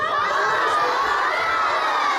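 A large group of schoolchildren at a 23 April Children's Day celebration shout together in unison, a loud, sustained crowd of young voices cheering with no other sound beneath them.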